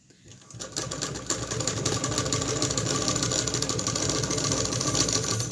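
A sewing machine stitching lace onto a velvet frock runs steadily and continuously at close range after a brief quiet start, its rapid mechanical whirring dominating throughout.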